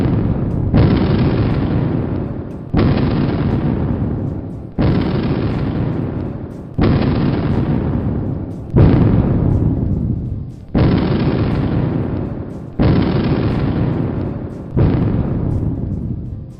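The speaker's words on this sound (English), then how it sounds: "We have an area where we simulate a blast." Repeated simulated mining blasts at Sterling Hill Mining Museum, eight heavy booming bursts roughly every two seconds, each loud and sharp at onset then decaying with a rumbling tail, no voices.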